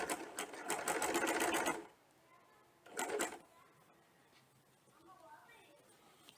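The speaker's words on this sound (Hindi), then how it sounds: "Just carefully see where my needle is stitching just on the pin point of the fold." A sewing machine stitches pin tucks in two bursts, a rapid rattling run of nearly two seconds and a shorter one a second later, with quiet pauses between and faint voice-like sounds.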